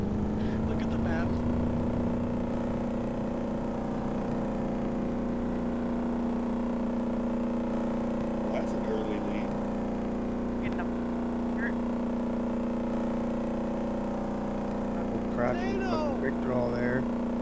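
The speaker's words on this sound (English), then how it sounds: "all you hear is a giant bunch of boats" Loud, continuous drone of many boat engines in the video game DayZ, steady throughout with faint voices briefly over it.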